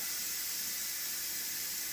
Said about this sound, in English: it might take a second or two for all the steam to come out